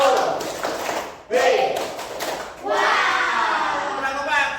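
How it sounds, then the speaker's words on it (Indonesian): A classroom of children performs a group clapping chant, sharp hand claps and thumps in short rhythmic bursts mixed with shouted voices, loud and close. "Tepuk wow."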